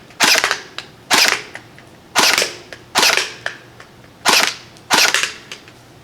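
An Out-of-Darts BK-1S dart blaster fitted with a Zarko BK, fired on semi-auto: six sharp, loud shots spaced about a second apart, each with a brief mechanical rattle trailing off, with no voices.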